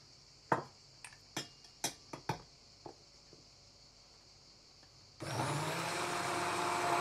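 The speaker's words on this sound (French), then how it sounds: "Donc, je vais mixer." A blender mixing food melted in a steamer: several sharp taps and clicks, then the motor starts abruptly and runs loud and steady to the end, close by with no talk.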